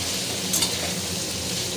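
Vegetables stirred in a frying pan make a steady, close sizzle with a faint scrape of the spatula against the pan, heard alone for a short moment.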